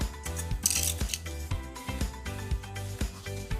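Scissors cut through folded paper in a rhythmic series of close snips, roughly two per second, each blade closing with a crisp slicing rasp.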